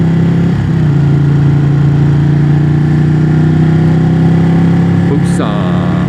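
A Suzuki Hayabusa 1300 motorcycle engine runs close by with a steady, even droning hum at constant revs. The pitch dips briefly near the end.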